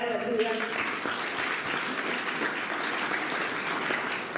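An audience claps loudly and steadily at the closing event of a cycle rally for child-marriage-free India, sustained applause with a voice briefly audible at the start.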